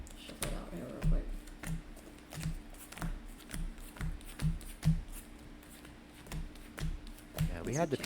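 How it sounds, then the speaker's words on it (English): Star Wars Unlimited cards being shuffled by hand in a series of quick, riffling taps and flicks at close range, with background chatter from players throughout. "Shuffle it out here real quick."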